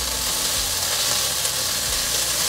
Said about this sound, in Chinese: 让它稍微煎一下，大概煎了30秒左右